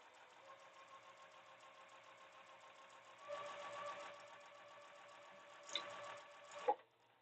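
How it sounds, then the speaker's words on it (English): A sewing machine stitching fabric pieces together hums and whirs faintly at a steady pace, running louder for a stretch midway, with a couple of small clicks near the end. "Let's get this one sewn up now"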